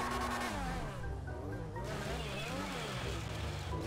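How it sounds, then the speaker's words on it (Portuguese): A Formula 1 car in GTA V Online revs and whines with rising and falling pitch as its tires squeal through a turn, while someone talks over the engine. "Melhor cantar pneu aqui."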